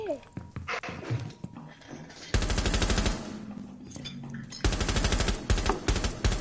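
Gunfire in Rainbow Six Siege, with a few scattered shots early on and then two long loud bursts of rapid automatic fire, while players talk excitedly over it.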